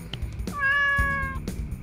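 A cat in the Roblox video game Farm World gives a single clear, drawn-out meow, loud and close, with no speech over it.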